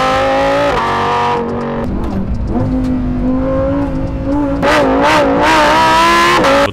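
Lamborghini Huracán STO V10 in the racing game Forza Horizon, revving hard through several upshifts with a loud, distorted rising howl and crackling bursts near the end.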